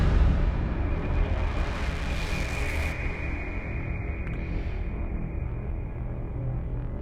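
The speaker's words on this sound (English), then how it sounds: "you can hear the riser sort of rumbling in the background" A rumbling riser in a cinematic score for a Marvel motion comic builds as a dense, continuous low roar under brighter noisy texture, loud and steady throughout with no speech.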